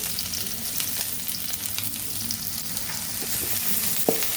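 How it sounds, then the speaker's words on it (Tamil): Large onions sauté in hot oil for kothu parotta, a steady close sizzle and crackle running throughout with a few sharper pops and spatters near the end, no voices. "வதக்கிட்டே இருங்க பொன்னரமாக."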